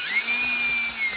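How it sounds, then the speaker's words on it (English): An electric screwdriver whirs with a steady high-pitched motor whine, driving a screw into a Traxxas 2WD RC car's front bearing carrier, brief and close with no talk. "Then I'm going to go ahead and slowly put it in with my electric screwdriver just because it's quicker."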